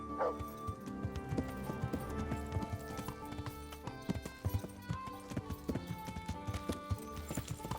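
Horse hooves clip-clopping in Kingdom Come: Deliverance, a steady rhythmic trot close by over background game music, with brief dog barks mixed in.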